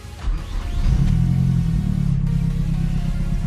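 A Mazdaspeed 3 engine cranks and fires, then settles into a loud, steady fast idle with a low rumbling drone, close by and alone.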